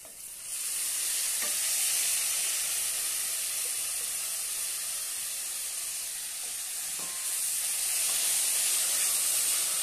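Chopped spring onion greens fry in a pan with besan, giving a steady, close hiss and sizzle that runs throughout, with a few faint stirring clicks.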